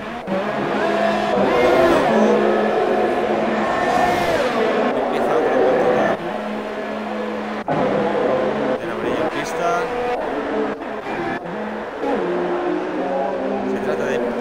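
Formula 1 car engines in the F1 2018 racing game during Spanish Grand Prix qualifying, with high-pitched engines whining and revving steadily, shifting through gears, beneath lively commentary.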